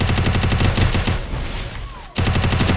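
Rapid automatic gunfire from the Free Fire video game rattles in a dense, loud burst. It thins into a quieter stretch, then breaks off briefly before another sharp volley resumes.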